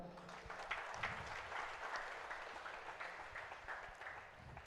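An audience at a church sermon claps together in a sustained burst of applause, faint and somewhat distant, with no talking over it.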